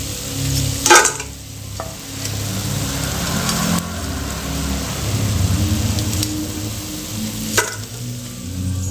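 Crispy bondas lifted from hot frying oil, with a steady loud sizzle throughout and sharp clinks of a metal ladle or strainer at the start and near the end.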